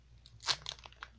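A Dollar Tree haul package being opened, giving a short burst of crinkling, crunching plastic packaging, close up and alone.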